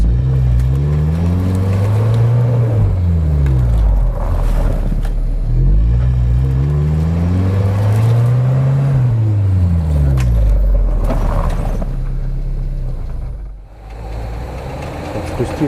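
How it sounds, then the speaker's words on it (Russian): An off-road vehicle, a UAZ Patriot on 33-inch all-terrain tires or a Suzuki Escudo with a locked differential, revs hard on a winter track as its clogged tires spin, engine pitch repeatedly rising and falling, loud and close, with voices underneath. "Протектор забился, шлифует."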